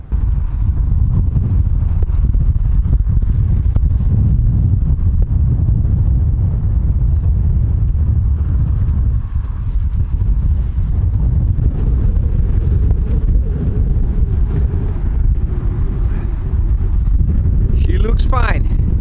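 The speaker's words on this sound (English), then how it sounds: "it's cold, it's windy, still windy" Strong, cold wind buffets the microphone with a constant low roar near moored boats, and a brief voice is heard near the end.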